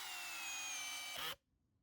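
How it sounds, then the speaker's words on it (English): A Durofix G12 12V drill at speed 2 whirs steadily while driving a screw into wood, then cuts off abruptly after just over a second, leaving near silence. "I switched back to speed 2 to drive some screws"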